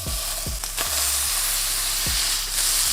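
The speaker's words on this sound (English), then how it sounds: "And now cook the other patty." A seasoned beef burger patty sizzling in a hot pan, a loud, continuous close-up hiss with a few brief knocks and scrapes over it.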